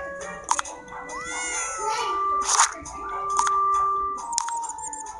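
A cat in The Sims 4 video game meows several times, close and clear, in drawn-out and short calls among light clinking game sounds.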